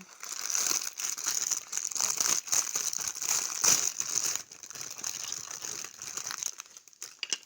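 Crinkly plastic packaging of LEGO soldier minifigures being opened, a steady close crackling and rustling for several seconds with brief louder crunches, no voices.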